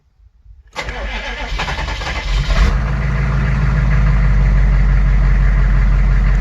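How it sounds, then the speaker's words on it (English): Twin-turbo 6.5 diesel truck engine cranks over after a moment of silence, catches and settles into a loud, steady, rumbling idle close by, with no talking. "But anyways, I'll start the truck up now."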